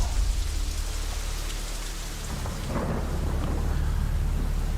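Heavy rain pours down steadily in a dense, loud hiss, with a low rumble underneath swelling about halfway through.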